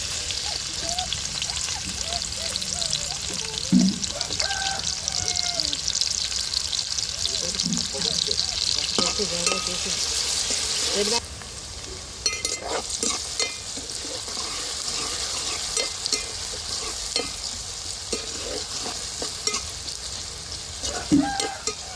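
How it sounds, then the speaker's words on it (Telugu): Onion and green chilli pieces fry in hot oil for a Telugu-style curry, a steady broadband sizzle running throughout with occasional stirring clatter and brief louder pops, while a person talks over it at times. "నూనె కాగిందండి. ఉల్లిపాయ పచ్చిమిరపకాయ ముక్కలు వేస్తున్నాను."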